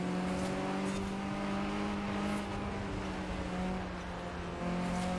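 A Volkswagen Scirocco, barn-find version, drones steadily in Forza Horizon 4, its engine holding a sustained, even tone with a slight pitch dip near the end and no talk over it.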